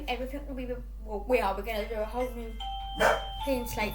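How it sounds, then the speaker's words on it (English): A two-tone doorbell chime rings out over someone talking, with a brief sustained tone followed by a clear ding. "Sorry, that's my doorbell."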